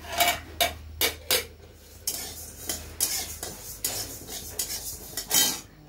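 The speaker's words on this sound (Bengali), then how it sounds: "ভাতটা একটু নাড়িয়ে দিয়ে আগের চালের ভাত তো লেগে পড়ে" Cooked rice being stirred in a metal pot with a utensil, a series of sharp scraping clinks and knocks at an uneven rhythm, close and clear with no voices.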